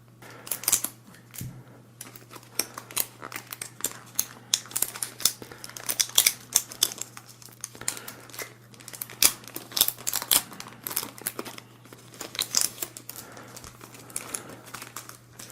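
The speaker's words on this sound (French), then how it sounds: "on va ouvrir le premier paquet. Avec le ciseau bien entendu." Crisp snipping and crinkling of plastic and paper as scissors cut open Panini Fortnite card packs, in irregular bursts over a steady low hum, close to the ear, with no talking.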